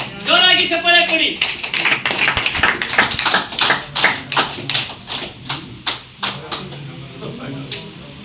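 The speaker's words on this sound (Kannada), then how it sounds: "ಜೋರಾಗಿ ಚಪ್ಪಾಳೆ ಕೊಡಿ." An audience applauds a lucky draw gold coin winner, with a burst of clapping that thins into scattered, irregular claps, heard under a voice on a loudspeaker.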